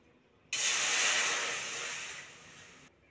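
Water splashed into a hot kadai over a lit clay oven for a chicken lotpoti with taro leaves, bursting into a loud steamy hiss that fades gradually over about two seconds, with no talking.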